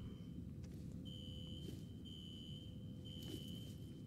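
A quiet electronic alarm in the video game F.E.A.R. beeps in regular, evenly spaced pulses over a low background rumble, with no voices heard.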